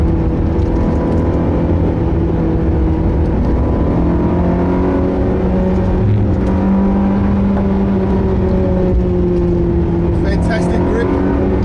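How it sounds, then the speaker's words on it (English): Ferrari 360 engine droning steadily from inside the moving car, a loud sustained harmonic hum with rising and falling pitch as it drives, filling the whole stretch with no talk over it. "This is a Ferrari."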